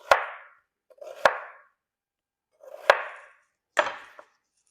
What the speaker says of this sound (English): I'm gonna go ahead and chop up the onions